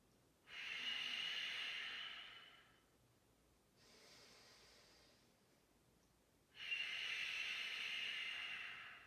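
Ujjayi yoga breathing through the nose with lips sealed, two long airy hissing inhales and exhales separated by a quieter breath, close and steady.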